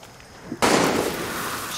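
A single sharp gunshot bursts out in the Far Cry 6 video game, a sudden loud crack followed by a decaying rumble, heard alone without talk.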